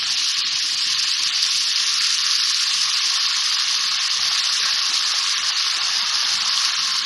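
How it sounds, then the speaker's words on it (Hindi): Chicken chow mein noodles sizzle and fry steadily in a hot pan after soy sauce, hot sauce and vinegar are added, a continuous loud hiss with no voices. "थोड़ा सा इसको भूनेंगे ज़रा सा।"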